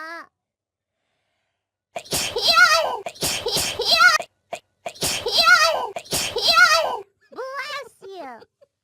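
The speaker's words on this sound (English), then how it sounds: "That was my second sneeze." A sneeze from an animated character voice bursts out amid high-pitched, excited chatter and squeals, fairly close and loud.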